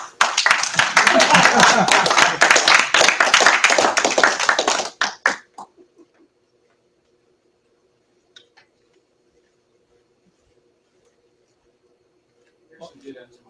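Clapping by a small group at a PHP developers' meetup, brisk rhythmic hand claps for about five seconds that stop abruptly, followed by near silence with a few faint taps and brief talk.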